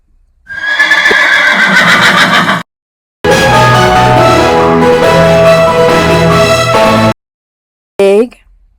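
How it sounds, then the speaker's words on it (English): Loud, close horse neighs and whinnies in three separate bursts with silent gaps between them, the last burst short, part of a run of farm animal sounds. "horse,"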